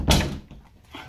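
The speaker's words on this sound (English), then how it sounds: "Let me just close my door." A bedroom door closes with a single solid thump near the start, then only faint room noise follows.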